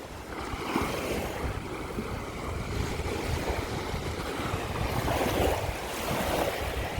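Ocean waves wash onto Pescara beach on the Abruzzo coast of Italy, a steady rolling surf with gentle swells, broad and continuous, mixed with some wind buffeting the microphone.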